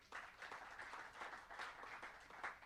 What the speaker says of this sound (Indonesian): Tepuk tangan buat Allah kita.